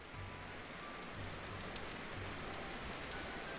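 Steady rain pours down on the ground in the blocky survival game Vintage Story, a continuous hiss of drops with a faint low hum underneath, heard alone without any voices.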